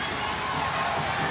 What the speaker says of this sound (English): the crowd lets him hear all about it